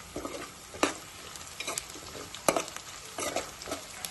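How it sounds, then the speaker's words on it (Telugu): Onions fry slowly in a pan over a medium flame, giving a steady sizzle broken by scattered pops and spits, close by with no talking. "ఈ ఆనియన్ మేము స్లోగా చిన్న మీడియం సైజ్ మంట పెట్టేసుకొని ఫ్రై చేసుకుంటున్నాం"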